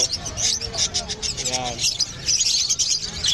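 Small caged birds such as parakeets chirp and tweet busily at a pet market, a dense bright chatter running throughout, mixed with a background voice and market bustle.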